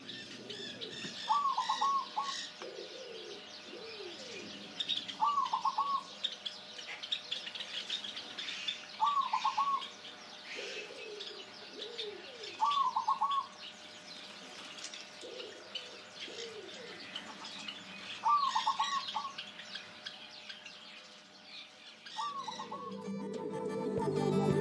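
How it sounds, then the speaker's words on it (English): Doves cooing in a garden outside an apartment on the Big Island of Hawaii, repeated soft rhythmic coo phrases every few seconds with other birds chirping around, fairly close and calm, no voices. "I'll play you a clip of doves from my garden outside of my apartment here on the big island of Hawaii."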